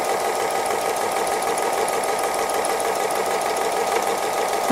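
A sewing machine stitches free-motion embroidery with brown thread on a squirrel design, running in a fast steady whir of rapid needle strokes, loud and close without pause.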